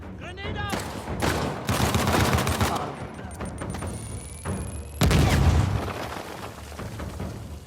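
Grenade blast and gunfire from Uncharted: The Lost Legacy: heavy bursts of automatic fire and booming thuds, with a sharp loud explosion near the end, while voices call out amid the fight.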